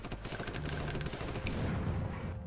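Rapid bursts of automatic gunfire in a Roblox combat game, a quick rattling volley of shots in the first second or so followed by a louder crack and a rumbling tail, with no talking.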